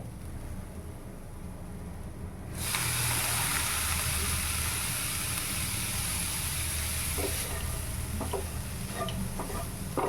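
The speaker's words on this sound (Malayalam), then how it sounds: "കുറച്ച് വെള്ളം ഒന്ന് തളിച്ചു കൊടുക്കാവേ" Water is sprinkled onto bean thoran frying in a pan. The quiet sizzle suddenly jumps to a loud, bright hiss of steam that holds steady, with a few scraping stirs near the end.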